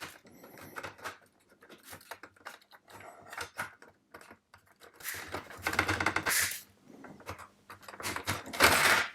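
Cutting an extra piece of material off a small cog, a series of short scraping and snipping sounds that come in uneven bursts, close and fairly quiet, with no talking.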